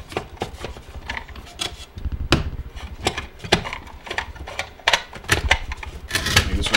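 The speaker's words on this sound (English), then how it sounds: "Like this one here, I'm having a hard time screwing it in." Screws are driven by hand into the wet end of a Beachcomber hot tub pump during a seal and bearing change, making irregular close clicks, scrapes and ratcheting knocks in uneven bursts.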